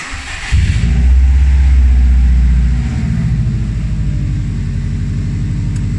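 Subaru WRX engine cranking and catching, then a loud surge of revving that settles into a steady, slightly lower idle rumble, close and continuous with no talk.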